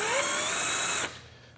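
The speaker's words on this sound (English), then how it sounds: "So I'm using a split point 135 degree cobalt drill." Hand-held power drill driving a 135-degree split-point cobalt bit into hard metal while a DRO is fitted to a PM-940 milling machine: a loud steady whine for about a second, then it stops abruptly and only a faint hum remains.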